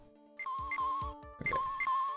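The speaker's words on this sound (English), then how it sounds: "That's a cell phone." A cell phone ringtone from the Phoenix Wright: Ace Attorney Trilogy video game, a steady electronic melody with two repeating phrases of tones over soft rhythmic thumps.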